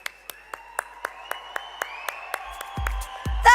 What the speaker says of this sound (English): More of a wow, whistles, claps, applause